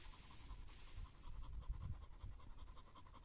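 A dog pants rapidly and steadily up close, the breathy rhythm continuing alone without a break.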